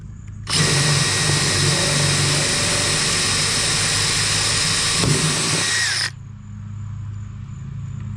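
A power drill bores a screw hole into a Tracker Panfish 17 boat, running loud and close for about five seconds at a steady high whine before stopping, with a low background hum continuing afterward.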